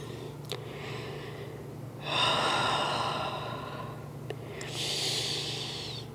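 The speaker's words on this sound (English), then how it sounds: "All the while breathing deeply." Deep, slow breathing during a yoga pose, two long audible inhales and exhales heard close up, each with a sharp intake at its start, over a low steady hum.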